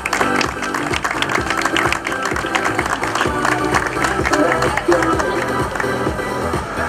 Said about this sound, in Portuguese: uma salva de palmas a todos os participantes